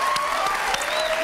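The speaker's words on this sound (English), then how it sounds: "Give them a round of applause." Studio audience applauding on a dating game show, a short burst of dense clapping with steady loudness and faint tonal music underneath.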